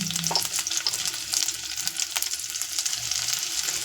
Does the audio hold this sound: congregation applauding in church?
no